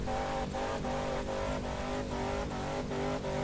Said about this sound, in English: That is my engine ready to explode there.